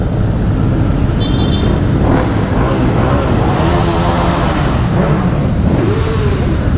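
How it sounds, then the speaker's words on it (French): Loud motorcycle engine roaring and revving nearby at a motorcycle parade, rising and bouncing against its rev limiter amid crowd noise and passing traffic. "Je suis sûr que David va faire un rupteur"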